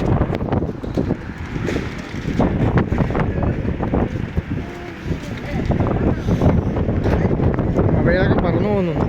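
Strong gusty wind near a beach buffets the microphone in heavy, uneven roaring bursts that continue throughout, with a person talking over the wind.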